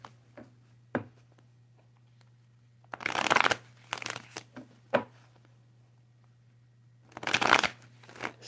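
Tarot cards are shuffled in quiet bursts, a couple of longer riffling shuffles with scattered single taps and card snaps between them, close and fairly soft over a low steady hum, no talking.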